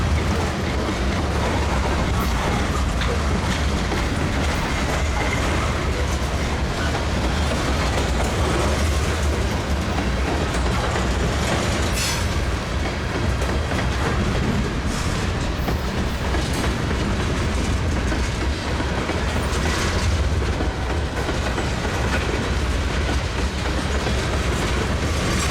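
Loud, continuous rumble of CSX freight train 604 rolling past on the tracks at Lakeland, Florida, with rhythmic clickety-clack of wheels and occasional brief squeals, no voices.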